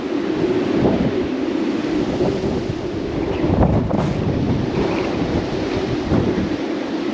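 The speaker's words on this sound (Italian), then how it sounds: "Quando arrivano le folate di vento" Strong wind gusts roar steadily against the microphone near Tres Lagos, Argentina, a loud continuous rumbling buffet that swells and eases without pause.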